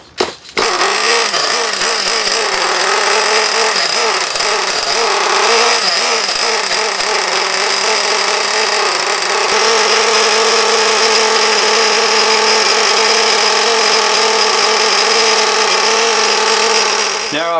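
A nitro engine in a Basher SaberTooth 1/8 scale RC truggy during run-in screams at a steady high-pitched whine, loud and close, holding constant for the whole stretch after a brief start.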